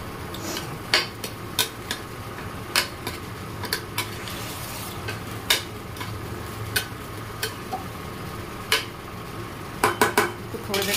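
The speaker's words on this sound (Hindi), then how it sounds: "ये आलू मैश करके इसको भी डाल देंगे।" A spoon scrapes and knocks against a cooking pot while mashed boiled potato is stirred into a masala for matar chaat, giving sharp irregular clinks over a faint sizzle, with no voices.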